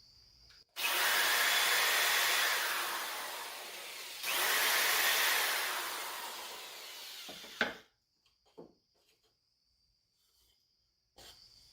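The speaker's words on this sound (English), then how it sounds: "I want to pre-drill the holes into the base" A power drill bores pilot holes into a wooden base for a napkin holder kit: two long, loud, steady whining runs separated by a short break, then a few small knocks and near silence.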